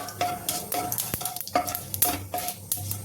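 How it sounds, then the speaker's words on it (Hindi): Cumin and mustard seeds sizzle and crackle in hot oil in a home kitchen pan, with a steady frying hiss broken by repeated stirring scrapes and small pops, close and fairly loud. "ये देखिए जीरा डाल दिया है, थोड़ा सा राई डाल दिया"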